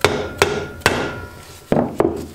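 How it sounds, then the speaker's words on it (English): Hammer blows pressing a new seal into a part while restoring a Rickets mini bike, five sharp metallic strikes at uneven intervals, close and loud, each ringing briefly before the next. "We'll just hit it with a hammer."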